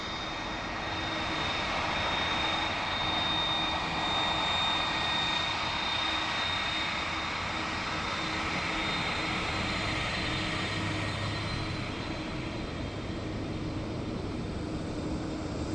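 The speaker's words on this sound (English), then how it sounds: "Magnificent looking aircraft." Aircraft engine at Dublin Airport, a loud, steady roar and whine held throughout at close range, with no voices.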